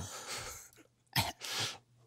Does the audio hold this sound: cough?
yes